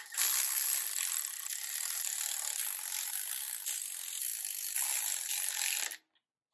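A ratchet runs down the head bolts on a 1968 Pontiac Firebird engine during reassembly, making a steady close buzz of fast clicks for about six seconds before stopping abruptly.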